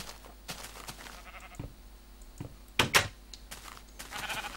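Sheep in the Minecraft video game, a few short bleats scattered among clicks and soft thumps, with one louder bleat cluster near the middle, all fairly quiet and close.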